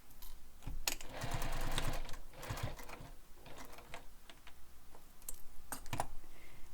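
A sewing machine stitching around a handbag runs in a fast, steady mechanical patter, with brief louder bursts and pauses as the fabric is guided, close and alone.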